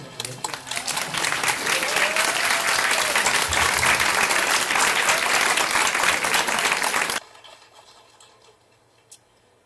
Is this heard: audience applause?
yes